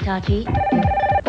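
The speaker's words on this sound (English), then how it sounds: "wait, that's my phone" A telephone rings in a 1990s TV commercial, with a steady bright ringing tone sounding under a voice as he speaks over it.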